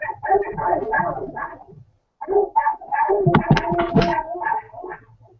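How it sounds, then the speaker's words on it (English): Several dogs bark and yip inside a bar in two close, loud bursts separated by a brief pause, the barks overlapping in a busy, uneven jumble. "there's a lot of dogs in this bar"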